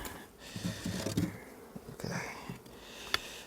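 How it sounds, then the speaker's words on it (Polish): A buzzing swarm of honey bees hums up close at an opened hive, with some rustling and a brief sniff-like noise mixed in. "Widać pszczoły zlizują ciasto, więc jest dobrze"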